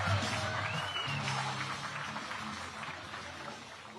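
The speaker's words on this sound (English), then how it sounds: "Keep the noise going for Tyler Rivette." Crowd at a Bassmaster Elite bass fishing tournament weigh-in on the Mississippi River at La Crosse, cheering and applauding in a steady, loud wash of noise.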